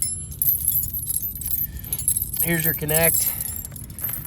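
Metal tire chains being handled give a bright, close jangling rattle over low background noise, while someone speaks briefly.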